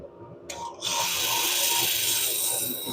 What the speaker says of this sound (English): trying to get this sanded up sometimes is really hard.